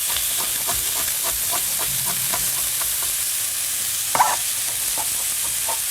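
Finely chopped onion frying in a pan, the start of a butter sauce for Ulster-Scots cooking; a steady, soft sizzling hiss with light, scattered utensil clicks and one sharper tap.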